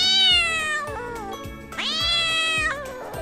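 Cat meowing as a sound effect, two drawn-out, clear meows, close and loud, the second rising sharply before tailing off, with no talking.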